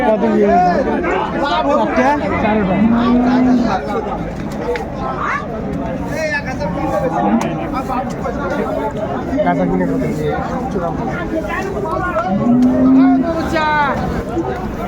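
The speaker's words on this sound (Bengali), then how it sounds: "এক লটে 4টি ষাঁড় আমরা দেখছিলাম।" Sahiwal bulls at a crowded cattle market give a few deep, drawn-out moos, near and moderately loud, amid constant chatter and speech from buyers and sellers.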